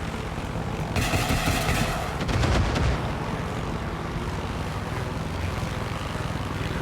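A helicopter in the video game Far Cry 6, its rotor and engine droning steadily with rumbling bursts and clatter, loud and continuous, with no voices.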